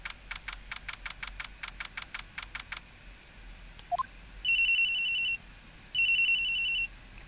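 In the Phoenix Wright video game, a quick run of short electronic blips gives way to a telephone ringing in two long, bright electronic bursts separated by a brief pause, with no talk.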